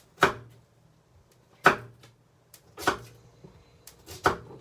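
A knife chops a sweet potato or yam into smaller pieces on a board. There are four separate, crisp chops, spaced slowly and evenly, each with a sharp strike and a short tail. No voices.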